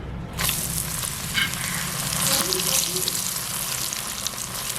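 Crackling, bubbling sizzle of papadums frying in hot oil, steady and close, rising in intensity after a brief quiet start.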